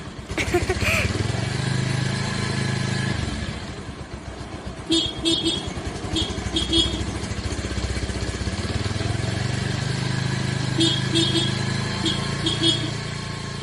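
Cartoon scooter effect: a buzzing small-engine putter runs along with short horn-like toots, while animated voices speak over parts of it.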